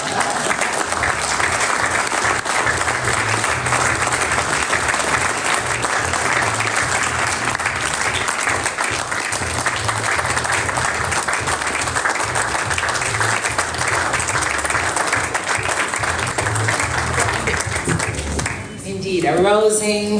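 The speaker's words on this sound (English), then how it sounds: "A rousing round of applause for the incoming chair of CARICOM." A large business-forum audience gives sustained, dense applause for the incoming chair of CARICOM, a loud, even wash of many hands clapping that continues for around twenty seconds with a few voices mixed in underneath.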